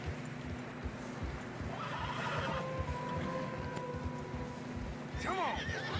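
Horses whinny in Red Dead Redemption 2 as they struggle through fresh snow on a narrow trail, with hooves clopping throughout and a loud, near whinny rising near the end; voices talk faintly.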